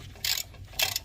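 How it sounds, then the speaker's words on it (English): A ratchet wrench snugging the bolt that holds a brake caliper bracket to the steering knuckle during a front pad and rotor job, two short close clicking bursts separated by a brief pause. "It's gonna tighten this bolt right here, bolts the bracket to the knuckle"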